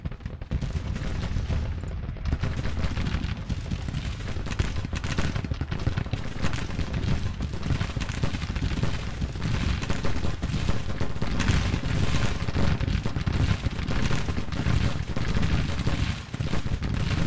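Dense, continuous Civil War musket volleys and artillery fire in the Grand Tactician battle game, a sustained distant-sounding roar of overlapping shots with no break throughout.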